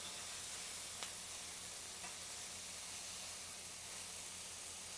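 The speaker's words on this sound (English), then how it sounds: "Our onions are getting a nice caramelization on them." Onions caramelizing in a pan give a faint, even sizzle and hiss that carries on steadily with no talk, with one light tap partway through.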